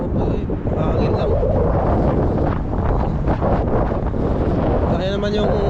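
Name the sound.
wind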